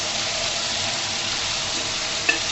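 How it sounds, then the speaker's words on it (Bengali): One spoonful of gram flour (besan) toasting in oil in a frying pan makes a constant, even sizzle up close, with a single brief tap near the end. "বেসনটাকে আমি ভাজা ভাজা করে নিব"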